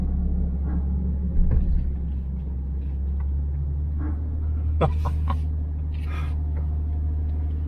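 A 2022 Toyota Tundra SR5 TRD Off Road creeps along an off-road trail on its own, giving a low, steady engine rumble that stays quiet and even throughout, with a few faint knocks and rustles on top.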